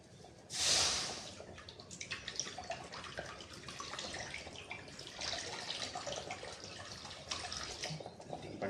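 Water is poured into a pan of cooking potatoes, a brief loud splash followed by continuous bubbling and sputtering close by, with no talking over it.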